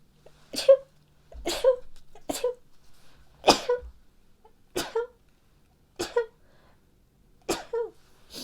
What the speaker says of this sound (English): Oh my nose, I'm gonna sneeze.